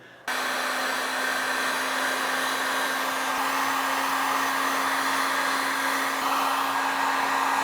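A heat gun blows a loud, steady whine with a constant hum as heat shrink tubing is shrunk over a crimped cable lug on 4 AWG wire, switching on abruptly and running unbroken.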